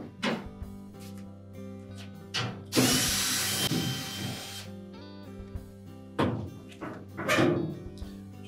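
A power drill backs out the 5/16 screws holding the front panel on a Whirlpool washer, giving one short whirring burst of about two seconds over steady background music.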